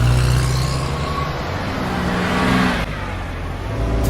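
Cars and trucks pass along a highway, a loud, continuous roar of road traffic with rumbling low engine tones and a brief dip before the rush swells again.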